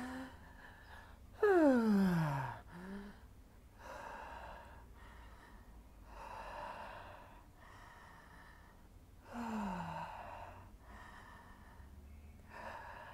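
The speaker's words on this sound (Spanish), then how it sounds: "Cada respiración entre inhalar y exhalar puede durar 3-4 segundos." Guided Wim Hof method breathing, with deep inhales and exhales repeating in slow, steady cycles every few seconds. Two stronger, sharper breaths stand out, and the gaps between cycles are quiet.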